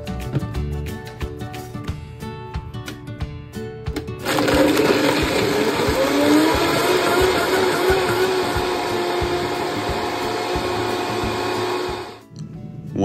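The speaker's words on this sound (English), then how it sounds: "Now you can have your parent turn on the blender." A kitchen blender whirs loudly for about eight seconds, chopping mango, ice, chia seeds, water and lime juice, starting abruptly and stopping cleanly, with quieter music-like sounds before it begins.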